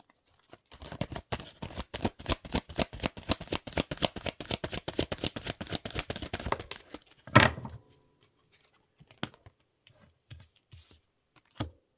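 Tarot cards are shuffled in a quick, even riffle of sharp papery flicks for about six seconds, close and crisp. A brief louder clatter follows, then a few scattered soft taps and card handling sounds with long quiet gaps.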